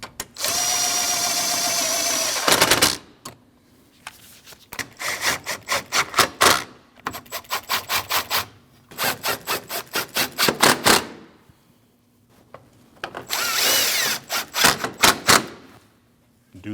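A power tool drives bolts on a Jeep Cherokee bumper cover, 2014–2023 model, with a sustained whir followed by bursts of rapid ratcheting impacts, loud and close, repeated in several runs with short pauses.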